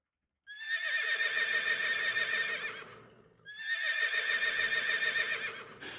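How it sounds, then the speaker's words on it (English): Two long horse whinnies from the Pax Augusta video game, each a loud, bright neighing call lasting about two and a half seconds, separated by a brief dip, with no talking over them. "every time we center on the map, it makes a horse sound"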